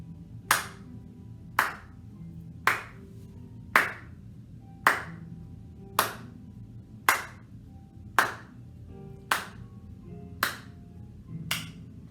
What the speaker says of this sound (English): now I'm just going to clap